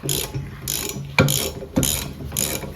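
Welded parts on a Bolens garden tractor sleeve hitch are turned by hand, giving loud, close ratcheting, grinding metallic clicks in three or four repeated bursts with no talk.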